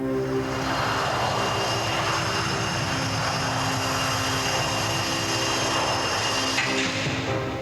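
A fixed-wing airliner bound for Paris drones steadily overhead, a continuous loud engine roar with a low pulsing hum and a broad hiss that hold level for the whole stretch, with no talking.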